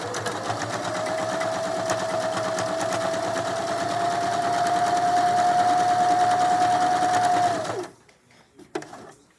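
A Janome mechanical drop-in bobbin sewing machine stitches a manual buttonhole, a steady close whirring hum with rapid needle clatter running for about eight seconds before stopping, followed by faint handling noises.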